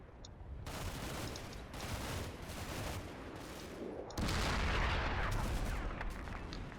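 Gunfire in the World War II strategy game Combat Mission Red Thunder, dense rolling bursts of shots and heavy booming fire in repeated waves, loud and continuous with no talking.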